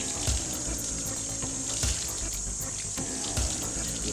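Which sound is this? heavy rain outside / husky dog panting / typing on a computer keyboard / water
water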